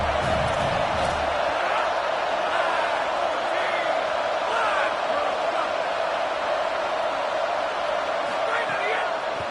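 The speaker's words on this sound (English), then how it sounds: "Decibels rising as the crowd gets behind this defense on 3rd down." A stadium crowd in a college football video game roars steadily as it gets behind the defense on third down. The noise stays loud and unbroken, with commentary heard over it.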